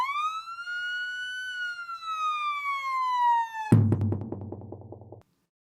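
A single ambulance siren wail slowly drops in pitch, then cuts into a rapid pulsing siren pattern before stopping abruptly.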